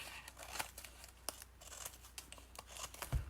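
Scissors trim paper for card making, a faint close series of quick snips and paper rustles in a quiet room.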